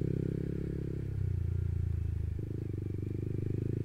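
A motorcycle rolls along a damaged gravel road, a steady low engine drone with a faint crunch of tires on loose stones, the engine note shifting partway through; fairly quiet and continuous.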